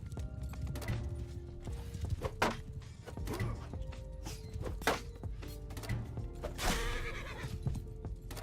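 A horse in Mount & Blade II: Bannerlord whinnies loudly amid clopping hooves and thumping battle impacts, the neighs rising clearly over a busy, continuous game soundscape.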